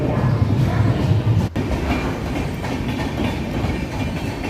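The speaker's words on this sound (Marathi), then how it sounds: "आपले ट्रेन जातात आहे ट्रेनचे पण व्हिडिओ" A train rumbles past steadily and loudly, with a rhythmic clatter of wheels on rails.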